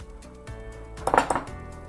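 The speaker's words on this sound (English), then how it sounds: "And we'll put a little bit in, mix it around" Spoon clinking and scraping in a small cereal bowl as scone ingredients are mixed, a few quick close taps clustered in a short burst.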